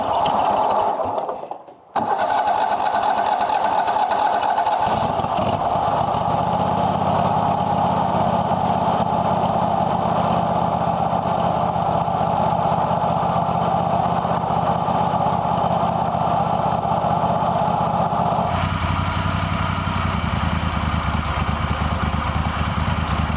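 Kohler Command engine running on a Craftsman GT5 riding mower after head gasket replacement and cylinder head surfacing, a steady, close, smooth idle drone that continues unbroken after a brief dropout at the start.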